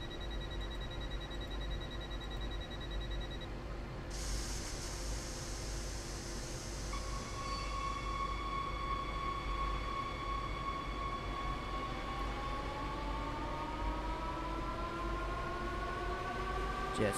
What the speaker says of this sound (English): enjoy the train travelling at high speeds down the German countryside